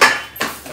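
Metal pots and utensils clatter while being handled for washing in a home kitchen: a sharp close clank, then a second lighter knock fading out.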